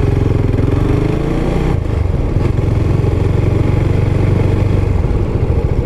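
A Husqvarna Vitpilen 701 single-cylinder motorcycle ridden on the road, its engine thumping loud and steady with a throbbing pulse, wind and road roar constant throughout.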